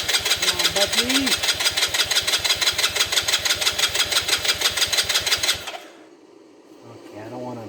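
Starter motor cranking a 125cc ATV engine that will not catch, a loud, close, rapid rhythmic chugging for about five and a half seconds before stopping abruptly, with a voice speaking over it and again afterward.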